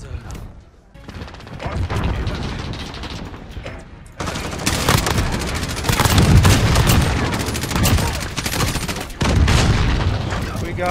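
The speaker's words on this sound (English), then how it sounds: "Ooh, three headshots in a row." Loud, dense bursts of automatic gunfire and booming blasts fill a Modern Warfare match, with rapid volleys broken by brief pauses.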